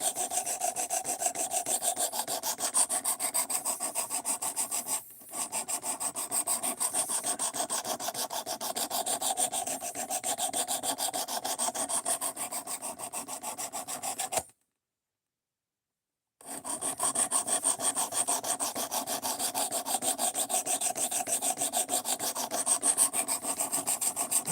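A KA-BAR knife edge is sharpened with rapid, continuous rasping strokes that run close and steady, broken by a short gap around five seconds and a two-second silence midway before the scraping resumes.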